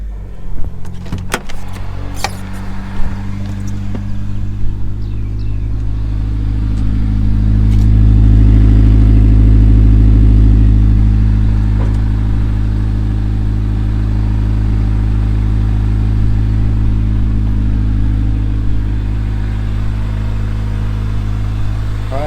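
A Honda car engine cold-starting with a brief crank, then settling into a loud, steady, close idle that swells slightly in the middle and holds a deep, even drone to the end.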